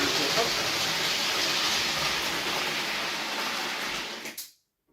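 A steady roaring hiss rushes past close by, a model railway Class 66 train running fast on the rails, then cuts off abruptly into silence.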